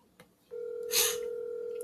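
A telephone keypad tone during dialing on a phone call: a steady electronic tone starts after a faint click and holds for over a second, with a brief hiss partway through.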